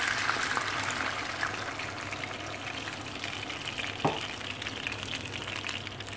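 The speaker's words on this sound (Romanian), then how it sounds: "Acum voi pune apa." Water is poured into a pan of browning meat and sizzles, a steady frying hiss with bubbling that runs throughout, plus a single soft knock partway through.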